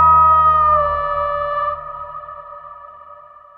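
A layered cinematic signature sound in a blockbuster dinosaur-film style, with a sustained tonal chord, a deep bass layer an octave down, and a bright upper layer that fades out halfway while the rest rings on, alone and loud.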